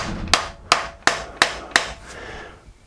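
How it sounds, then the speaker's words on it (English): A dead blow hammer strikes parallels clamped in a vise, five sharp evenly spaced thuds close by, each decaying quickly, followed by a softer sixth tap and quiet. "Then you want your dead blow hammer"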